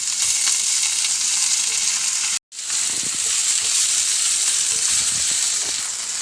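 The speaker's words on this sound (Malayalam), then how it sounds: "തക്കാളി ഇടുന്നുണ്ട്." Tomatoes and onions fry in a pan for an egg roast, giving a loud, steady broadband sizzle that runs continuously, broken by one brief gap of near silence midway, with no voices.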